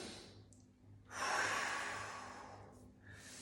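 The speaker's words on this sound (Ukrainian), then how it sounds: "Робимо ще раз вдих. Носом вдих." A slow, audible inhalation through the nose during a breathing exercise: a soft airy rush that swells and then gradually fades, heard close and quiet, with no talking.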